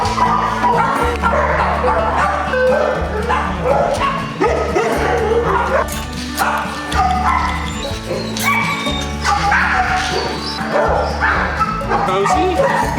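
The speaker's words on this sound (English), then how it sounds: "The next stop is at the Humboldt County Animal Shelter, where we met plenty of dogs who are begging for new homes." Dogs at a county animal shelter bark and yip repeatedly in a loud, busy chorus with whimpers mixed in, all over steady rhythmic background music and some voices.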